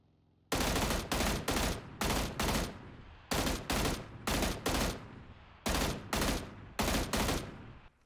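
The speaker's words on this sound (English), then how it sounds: "The M16 is definitely harder to control the burst fire, though." Rapid M16 burst fire in PUBG, four quick groups of about three to four sharp shots each, loud and close with short gaps between bursts.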